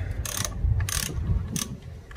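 A ratchet loosens the wire on a car battery terminal of a Suzuki Swift, clicking in several short bursts with pauses between, close up and without speech.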